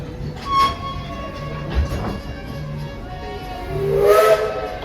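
A Walt Disney World Railroad steam train pulls into Frontierland Station in the Magic Kingdom, with hissing steam, faint rail clanks and a rising whistle near the end.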